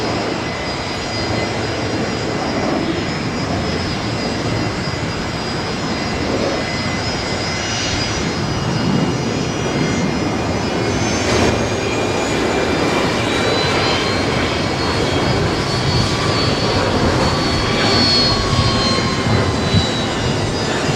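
A jet airliner, registration Victor Zulu Alpha, at Brisbane Airport, a loud sustained engine roar with whining tones, steady and close throughout without talk.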